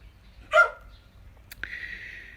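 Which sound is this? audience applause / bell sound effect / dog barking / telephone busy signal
dog barking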